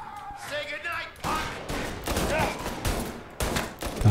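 Gunfire in the Mafia: Definitive Edition video game comes as several sharp shots in quick succession, loud and close, mixed with short bursts, plus a faint voice in the background.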